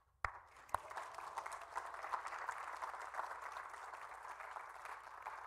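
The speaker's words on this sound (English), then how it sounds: "let's clap and celebrate together what God has done with Marie and Tony." A church congregation at a livestreamed service claps in celebration, starting with a couple of sharp claps and then settling into faint, steady, distant clapping under a soft room hum.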